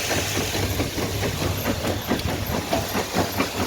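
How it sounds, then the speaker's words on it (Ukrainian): A winnowing machine blows dust and husks off soybeans with a loud, steady mechanical roar and airy hiss. A low engine hum runs underneath without a break. "Ось так гарно видуває пилюку і шалушиня."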